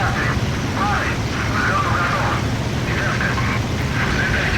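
Spitfire engine droning steadily through takeoff in the IL-2 flight game, a constant loud roar under someone speaking.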